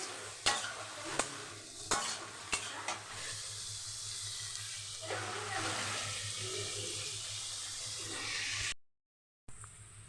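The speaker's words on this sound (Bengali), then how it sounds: "একদম হাই ফ্লেমে আমি পেঁয়াজটা লাল লাল করেই ভাজবো" Onions fry on a high flame in a pan, with a continuous sizzle under sharp clanks of a spatula stirring and scraping, then a brief silence near the end.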